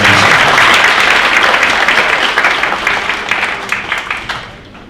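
Loud, sustained applause from a crowd, steady clapping filling the room before gradually thinning out toward the end.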